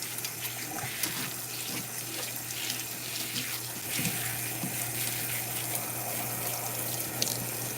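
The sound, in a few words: running tap water for shower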